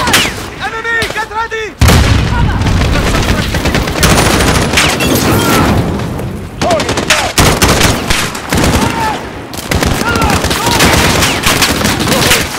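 Missile launch and explosions in Call of Duty Modern Warfare, final chapter Into the Furnace: loud, dense gunfire and blasts roar almost nonstop, with a brief drop near two seconds and voices talking over the din.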